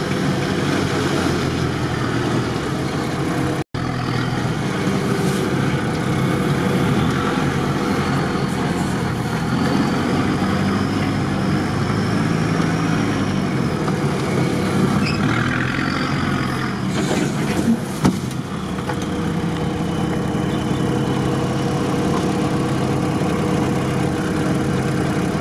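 A UAZ off-road vehicle on a rough tank track gives a continuous low, steady engine rumble that stays loud and close throughout with little variation.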